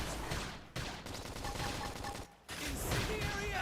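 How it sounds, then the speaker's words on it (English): Bursts of rapid gunfire during a Xenoblade Chronicles X battle, fast volleys broken by two short pauses, mixed with combat effects and background music. "if we can just topple them with gunfire"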